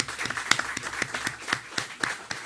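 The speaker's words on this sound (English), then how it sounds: "let's give them a round of applause." Conference audience applauding award recipients at an arts conference, brisk continuous clapping with distinct sharp hand claps standing out, fairly close.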